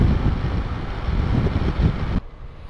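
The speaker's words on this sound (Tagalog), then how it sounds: "Malakas pa yung hangin." Strong wind buffeting an action camera's microphone on a Bajaj Dominar 400 motorcycle, a dense continuous roar that drops abruptly near the end to a lower rumble.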